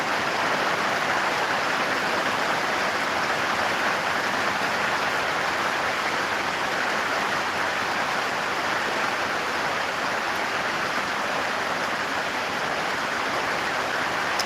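Rain falls steadily and evenly as a dense, unbroken wash of hiss at moderate level, with no voices over it.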